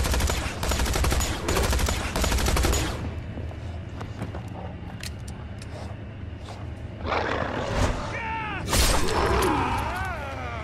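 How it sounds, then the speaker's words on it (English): Rapid gunfire bursts from the video game Tales From The Borderlands, loud and dense for the first few seconds, then scattered shots mixed with roaring, shattering game effects. "It would help if she actually shot them instead of just missing every bullet."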